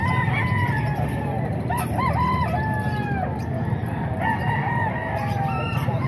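Roosters at a poultry market stall in Calumpit crow repeatedly, with several drawn-out cock-a-doodle-doos overlapping one another above a steady murmur of background crowd noise.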